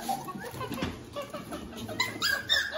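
Cavapoo puppies whimper and yip in short, irregular bursts close by, with someone talking over them throughout.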